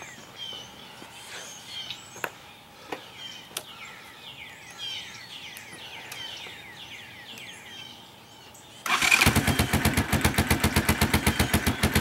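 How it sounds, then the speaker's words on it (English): A Honda TRX 200 ATV engine starts up cold after a stretch of outdoor quiet with birds chirping and a few clicks, then catches and settles into a loud, rapid, steady putter of the single-cylinder motor close by. "let's give it a start for you and let you see how she runs."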